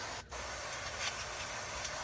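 A short burst of aerosol cleaner hisses close by onto a Harley-Davidson V-Rod Night Rod motorcycle engine, followed by a steady soft hiss and faint rubbing.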